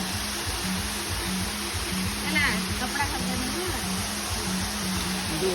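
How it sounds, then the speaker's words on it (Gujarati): A waterfall near Dev Mogra village roars as a steady, dense rush of water throughout, loud and close, with a faint tonal hum running underneath. "દેવ મોગરા ગામ અને ત્યાં આગળ આવેલો જોરદાર આહલાદક દ્રશ્ય ધરાવતો ધોધ"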